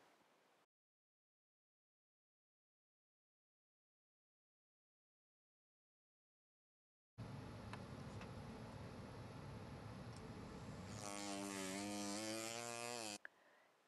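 A dental lab handpiece motor fitted with an acrylic burr runs at lowered speed while a custom tray is trimmed. After a silent stretch, it gives a close, steady buzzing whine for about six seconds, wavering in pitch near the end before cutting off.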